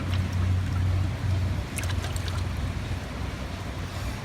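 A water feature pump impeller being washed, a loud, steady rush of running water close by with a low rumble underneath, and no one speaking.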